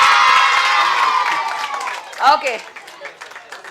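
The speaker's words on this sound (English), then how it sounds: "Let's have lots of claps." Young audience at a children's literature festival quiz claps and cheers briefly, a mix of clapping, shouts and whoops, with an adult voice speaking over the crowd and a short excited cry near the end.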